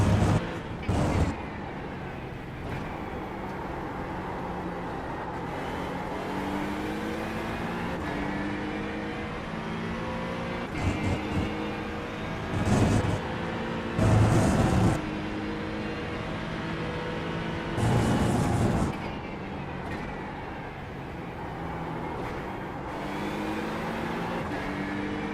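McLaren and Aston Martin race cars howl around the Mugello circuit in a racing video game, engines droning and shifting pitch steadily with repeated upshifts and occasional louder bursts as they pass, no talk.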